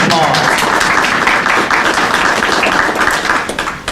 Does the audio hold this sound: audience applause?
yes